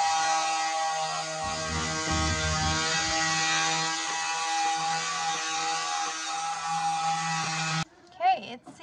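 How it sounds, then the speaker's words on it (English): Up close, a rotary multi-tool with an accessory attachment shapes a wooden scalloped bookshelf, holding a steady, high-pitched whine with a slight grinding texture for several seconds before stopping suddenly; a voice is heard briefly near the end. "Mr. So Bright got me these attachments for the multi-tool."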